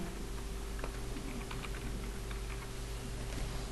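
Typing on a computer keyboard while writing text in Microsoft Word 2016: faint, scattered key clicks sit under a steady electrical hum and background hiss.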